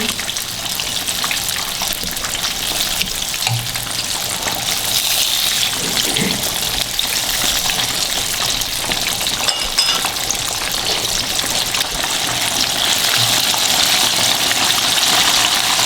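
Fish fries in hot oil for a crispy fry, giving a loud, steady, bubbling sizzle with occasional faint clinks, close up and unbroken throughout.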